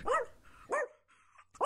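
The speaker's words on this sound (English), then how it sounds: "That's when Apple began growling and barking at the dark." A dog barks sharply in the dark, a story sound effect: three loud, close barks spaced evenly apart, with a low growl between them and no talk.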